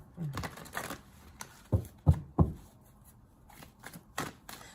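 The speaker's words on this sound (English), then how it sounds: "No, I need to really shuffle." A deck of oracle cards is shuffled by hand, producing a few quick riffling bursts and sharp taps, close and clear, with no one talking.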